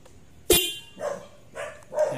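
A Honda Beat FI v2 scooter horn beeps in short repeated honks, a sharp burst followed by three softer toots at a steady interval, fairly close.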